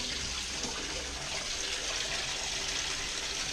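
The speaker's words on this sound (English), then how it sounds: "Yeah, there it goes. It's draining." A small mini washing machine drains its water, a steady hissing gush of flowing water heard close and continuous, with no voices.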